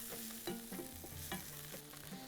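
Onions fry in a pan while being stirred, giving a soft steady sizzle broken by repeated scraping and clinking of a utensil against the pan, with no one talking.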